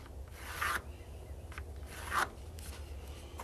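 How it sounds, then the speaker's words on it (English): A hand saw cuts through wood for top bar hive spacers, giving two quiet rasping strokes with a gap between them. "that's the width of my saw blade, and I'm going to figure that space right about here, and I'm just going to basically cut between the lines"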